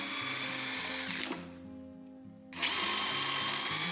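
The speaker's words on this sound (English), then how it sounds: "We're going to use the dowel max, run some dowels so we can attach our legs to the side panels." A power drill bores dowel holes in cherry wood using a Dowelmax jig. A steady, loud motor whine runs close, dips into a brief pause, then resumes at full speed.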